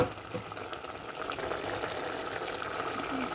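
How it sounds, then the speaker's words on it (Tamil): Water is poured into a cooking pot of goat meat curry with potatoes, a soft continuous splashing and trickling that sounds fairly faint and close, with no one speaking. "தண்ணி காணாதோடையே நான் கொஞ்சம் விடுறேன் தண்ணி"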